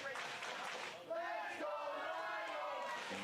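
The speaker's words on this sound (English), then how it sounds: "you hear the crowd going for Rayo" Crowd at an independent pro wrestling Halloween show roaring steadily throughout, with shouts and cheers swelling at a ladder-and-chair spot, far-off and dense and mixed with a commentator's voice.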